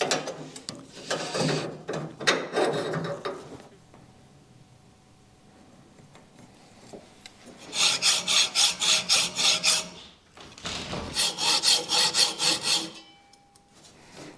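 A file rasps across a billet metal steering column mount in quick, even rhythmic strokes, close and clear, arriving in two separate bursts with a quiet pause and faint workshop noise between them.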